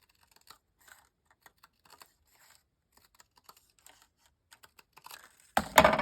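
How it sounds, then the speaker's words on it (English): Scissors snipping through paper to cut out a fence piece for a 5x7 bunny friendship card, a series of small, sparse, close clicks and snips ending in a louder rustle of paper. "we're just going to cut out the actual fence part"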